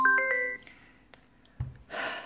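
A mobile phone briefly sounds a few short melodic ringtone notes in a quick rising sequence, close and fairly clear, followed by a couple of soft knocks and a breathy rustle.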